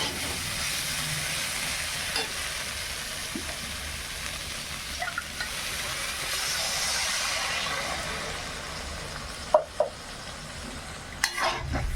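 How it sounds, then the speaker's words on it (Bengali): Water poured into a frying pan of ginger, cumin, onion and tomato masala gives a steady, continuous hissing sizzle at moderate loudness, with faint utensil clinks. "এবার জল দিয়ে দেবো।"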